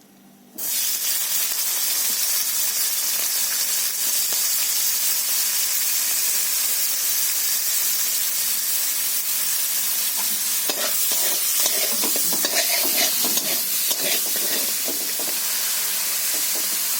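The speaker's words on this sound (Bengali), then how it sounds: "চিংড়ি মাছগুলো ভেজে নেব।" Prawns frying in hot oil in a wok, a steady loud sizzle and hiss that begins abruptly and continues throughout, with occasional stirring clatter and spattering near the end.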